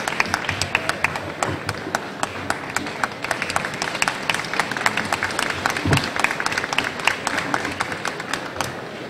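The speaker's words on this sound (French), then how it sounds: "Un grand applaudissement pour la CEB de Côte d'Ivoire, de la région du Bandama, qui remporte la fève de bronze." At the Salon du Chocolat 2022 cocoa awards ceremony, an audience claps in a dense, sustained round of applause that stays fairly even throughout, with sharp individual claps standing out.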